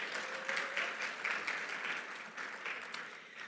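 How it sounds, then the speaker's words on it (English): An audience at an annual general assembly claps steadily in a large hall, the applause moderately loud and even, easing slightly toward the end. "I think that's worth clapping for as well."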